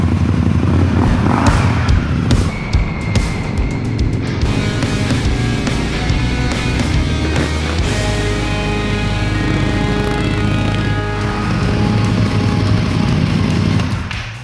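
An approaching Scout motorcycle with a 2-into-1 exhaust rumbles loudly and steadily, its deep exhaust note holding close by with a brief rev partway through.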